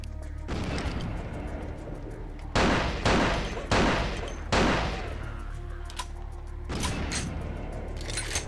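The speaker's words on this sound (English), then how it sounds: "What is all these explosions? They sound like cartoon effects." Repeated explosion and gunfire effects from a fight in the video game Vampire: The Masquerade – Bloodlines, with several loud sharp bursts in a row over a steady background of game noise.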